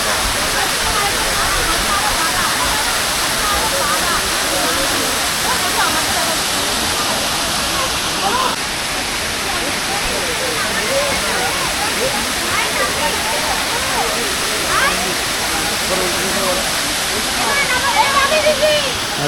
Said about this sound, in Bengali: এই হচ্ছে বামনি ফলস। দোকান থেকে জলটা পড়ছে।